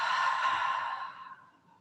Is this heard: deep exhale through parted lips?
yes